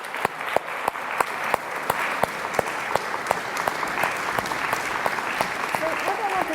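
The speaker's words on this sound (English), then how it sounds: "please give them a little bit of applause." An audience applauds a string quartet at a music lecture, a dense, steady patter of many hands with a few sharper individual claps standing out, close and sustained throughout.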